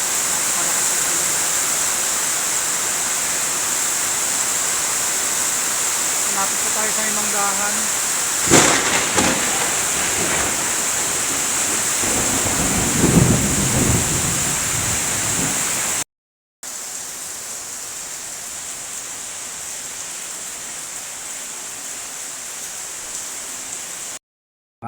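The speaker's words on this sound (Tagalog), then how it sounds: "Ganito po kalakas ang ulan ngayon dito" Heavy rain pours down during a drive in Santolan, Pasig, a loud, constant roaring wash with a brief spike of louder drumming midway; someone speaks briefly over it.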